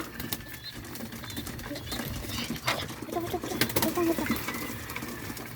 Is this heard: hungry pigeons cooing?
yes